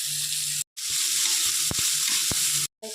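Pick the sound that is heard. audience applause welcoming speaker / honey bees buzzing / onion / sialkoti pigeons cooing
onion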